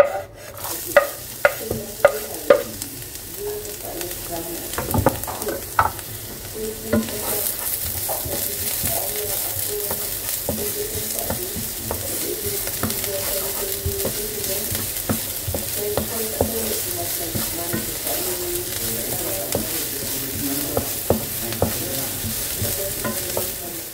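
Onions for shakshuka fry in a pan, a steady sizzle that swells and holds after a few early clacks and stirring knocks, with occasional utensil taps throughout.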